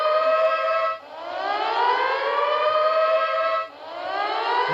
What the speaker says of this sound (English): you hear the alarm going. And that would indicate something's wrong.